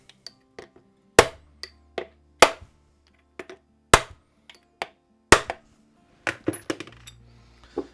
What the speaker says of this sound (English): a little bit of a punch just to make sure that that bearing housing or that casing is moving